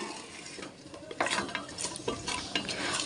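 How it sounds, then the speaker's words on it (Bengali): Beef sautéed and stirred in a pot, with clattering, scraping strokes against the metal and a faint sizzle underneath, close up and fairly quiet, with a busier burst of stirring toward the end and no talking. "মাংসটাকে আমি ভালো করে কষিয়ে নিচ্ছি"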